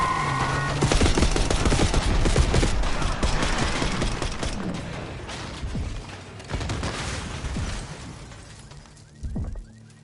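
Heavy gunfire from Call of Duty Black Ops 6 rattles in dense, loud bursts of rapid shots and booms for most of the stretch, thinning out toward the end with a few isolated later blasts.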